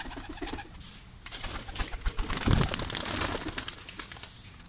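Pigeons on a rooftop coo in a steady murmur, close and fairly loud, joined by scattered wing flaps and rustling that swell in the second half.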